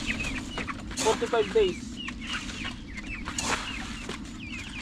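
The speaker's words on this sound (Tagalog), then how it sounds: "Ayun ay ang pagpapakain ng ating mga manok sa labas." Backyard chickens cluck and chirp outdoors during feeding, with brief rising calls scattered over a steady low rumble, while someone talks over them.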